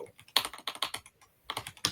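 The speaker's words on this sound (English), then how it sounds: "You're typing so fast." Rapid typing on a computer keyboard, a fast run of crisp, close key clicks in quick bursts, with a brief pause before the clatter resumes.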